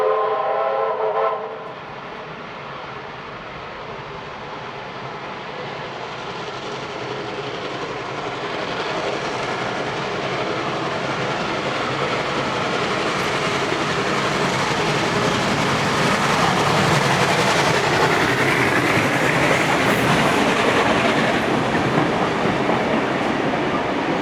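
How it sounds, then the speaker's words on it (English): Steam locomotive 6029 charges through Wombarra on a shuttle to Scarborough in New South Wales, opening with a whistle, then a swelling rumble, roar and clatter of the locomotive and carriages growing louder as the train approaches and passes close by. "We will now conclude this segment with 6029 charging through Wombara on another"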